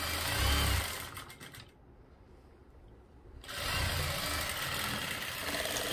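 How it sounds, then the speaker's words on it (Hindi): An electric sewing machine stitches a seam on a suit at close range, running in a steady mechanical whir, pausing for a couple of seconds in the middle and then starting up again. "इसको इस तरीके से पकड़ेंगे और ये आराम से सिलाई लगा देंगे।"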